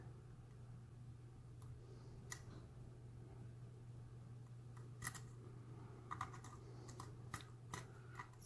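A lock pin sets with a tiny, faint click during lock picking, one of several small scattered ticks over a quiet, steady hum.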